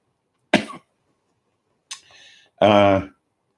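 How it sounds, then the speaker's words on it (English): Two sharp coughs spaced apart, the second deeper and more voiced, with a brief raspy breath between them, close and fairly loud. "this shit really makes me cough."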